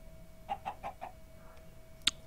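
A Minecraft chicken in a modded survival world gives a quick run of four soft clucks close by, followed by a brief sharper squawk, over faint game ambience.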